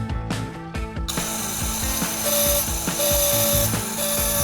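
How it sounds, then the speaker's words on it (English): A newly replaced electric brake vacuum pump runs in a car, giving a loud, continuous mechanical whir with a fast, rhythmic ratcheting pulse close by. "There is proper vacuum suction, which means the new vacuum pump is working correctly."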